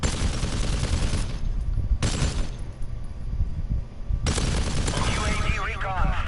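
AK rifle fire with a battle-worn skin in Modern Warfare Remastered, loud bursts of automatic shots in a busy firefight, with rapid volleys separated by brief lulls.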